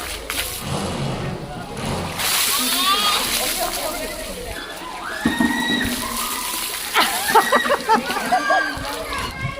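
Coloured water splashes and sloshes over a person during a Holi celebration in an apartment complex, with several wet splatters arriving in bursts amid lively nearby talk and children's voices.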